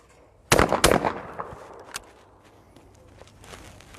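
A shotgun at clay-target practice fires two quick shots, very close, each a sharp loud crack, followed by fading echo and faint scattered ambient sounds.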